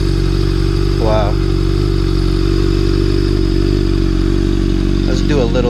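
A 2013 Honda CBR600RR motorcycle runs loud and close at a steady idle, with two short rises in engine pitch as the throttle is blipped, and a voice speaks over the engine.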